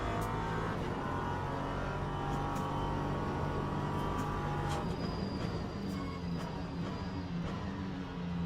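An LMP3 race car in a racing video game at Sebring or Monza, its engine droning loud and continuous with rising and falling revs, tire and road rumble throughout and no voices.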